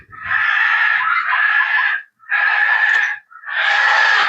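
A parrot screams loudly and close by in three long, harsh, sustained shrieks separated by brief pauses, with no other sounds around them.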